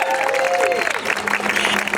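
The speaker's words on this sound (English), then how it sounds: "we can clap it up for that" A crowd claps at the ribbon-cutting opening of a new school building, a short burst of steady applause with a voice briefly audible over it.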